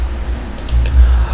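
Keys clack on a computer keyboard during a search, a few quick, faint taps over a low steady hum with no voices.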